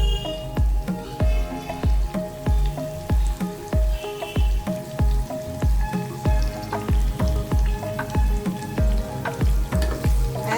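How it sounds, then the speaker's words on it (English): Pork sizzles and fries in its own released fat with tomato for a Nepali-style dry pork curry, a loud steady crackle with a regular rhythmic clatter of stirring throughout. "Now you can see the pork fat is releasing oil, so I have to add some tomato."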